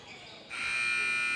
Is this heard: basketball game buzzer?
yes